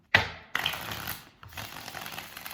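Tarot cards being shuffled in a few close bursts of papery riffling and tapping, each lasting about a second, with short pauses between them and no talking.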